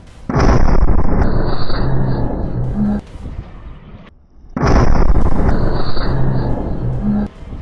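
Powerful blasts from an attack on IDF D9 bulldozers in Jabalia, two loud sustained roaring bursts several seconds long, separated by a brief near-silent gap, with no speech.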